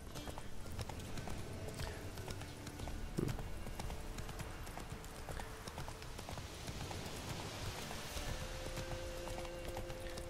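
A horse in The Witcher III: Wild Hunt clip-clops along without pause, regular hoofbeats at a steady trot under a constant ambient game backdrop, with a brief louder knock partway through.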